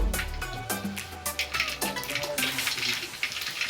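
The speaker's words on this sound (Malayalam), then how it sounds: "കടുക് പൊട്ടിയിട്ടുണ്ട്." Mustard seeds splutter and pop in hot oil in a home kitchen, a burst of quick crackles and sizzling bubbling over a few seconds, close and fairly loud.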